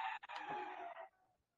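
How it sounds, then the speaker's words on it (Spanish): A rooster crowing outdoors, one drawn-out crow fading at the end, faint and distant-sounding. "Escuchan gallos, ¿no? Ya se despertaron los gallos, ¿no?"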